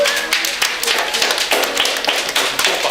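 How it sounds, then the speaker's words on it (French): An audience applauding at an evening stage show, a steady wash of many hands clapping at close range across the whole stretch, dense and fairly loud with a few sharper individual claps standing out. "On peut applaudir Delphine, s'il vous plaît."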